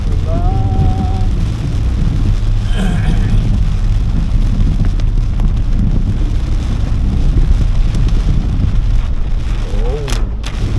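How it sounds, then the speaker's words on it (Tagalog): Heavy rain pours down in Antipolo, a loud, constant low roar mixed with wind buffeting the microphone, with voices heard faintly at moments. "Ang lakas ng ulan."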